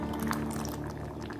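Broth simmers in a pot on a home stove as it thickens after salting: a brief, close, steady bubbling with no voices over it.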